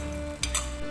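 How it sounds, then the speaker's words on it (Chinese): Sweet and sour pork with pineapple and green pepper tossed in a wok, a brief scrape and clatter of the spatula over a low simmering hiss, with two quick stirring bursts. "倒入我们的菠萝、青椒，我们的糖醋肉，将它翻拌均匀"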